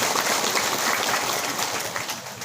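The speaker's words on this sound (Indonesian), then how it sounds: "Tepuk tangan dong buat MC kita yang luar biasa." An audience at a religious lecture gathering applauds the MC, a steady wash of clapping at moderate loudness that fades slightly at the end.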